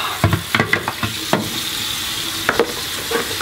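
A fish tank filter lid being rinsed under a running tap, dusty from drywall work, with a steady watery hiss broken by irregular sharp clatters and knocks as the lid is handled close by.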